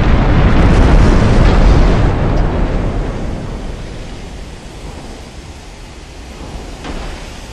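Small-caliber naval gunfire in the warship game Ultimate Admiral Dreadnoughts, a loud booming blast that rolls out into a long fading rumble, with a faint second report near the end.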